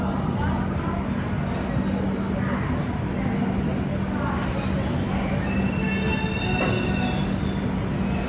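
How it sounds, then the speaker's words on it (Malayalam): Leaving platform 6 of Jabalpur station on a slight curve, the Patna Superfast Express grinds along with a constant loud rumble topped by thin, high wheel squeals that rise and waver. "ജബൽപൂർ റെയിൽവേ സ്റ്റേഷന്റെ 6-ാം നമ്പർ പ്ലാറ്റ്ഫോമിൽ ഇതാ നമ്മുടെ പട്ന സൂപ്പർ ഫാസ്റ്റ് എടുത്തിരിക്കുകയാണ്"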